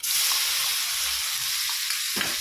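Ginger, garlic and coconut paste frying in a pan with mustard seeds and cumin, a steady close hiss and sizzle with a short stirring scrape near the end.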